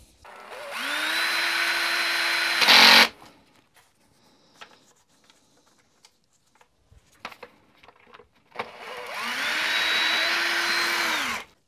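A powered driver screwing in a part while a Makita HR5001C rotary hammer is reassembled. Two loud whirring bursts ramp up and down several seconds apart, with faint clicks and handling noises in the quiet gap between them.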